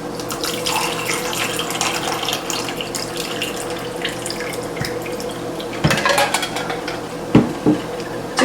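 Passion tea pours steadily from a canister into a pitcher packed with ice, making a continuous loud splashing rush with clinks of ice and the container against the rim near the end.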